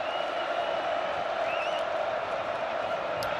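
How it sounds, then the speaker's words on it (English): A college football crowd at Clemson versus Notre Dame, heard as a steady, dense roar of stadium noise with a constant murmuring hum, no individual voices standing out. "Crowd noise."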